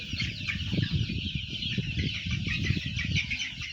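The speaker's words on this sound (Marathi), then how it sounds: "हे पा माझे आज एक महिन्याची पिल्ले झालेले आहेत" One-month-old chicks on a poultry farm holding about three thousand birds cluck and cheep in a constant, crowded chorus close by.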